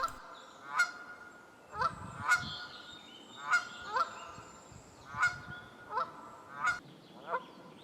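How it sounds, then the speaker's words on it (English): A pair of Canada geese honk repeatedly on a lake, loud close calls coming in regular bursts roughly every second over quiet water and faint background birdsong. "a pair of Canada geese have taken up residence on the lake"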